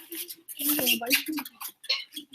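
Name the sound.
imitated puppy nursing sound to attract a dog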